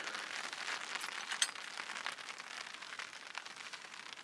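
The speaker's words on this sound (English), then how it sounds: "It's starting to rain pretty good on the tarp" Rain patters steadily on a tarp outdoors, a dense, even crackle of drops with no clear gaps, moderately faint throughout.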